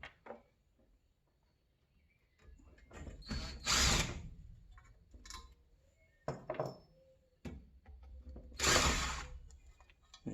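Screwdriver work on the Phillips screws of a 50-year-old bench grinder, heard as several short bursts of clicking, ratcheting and scraping separated by quiet gaps, close and moderately loud with no talking.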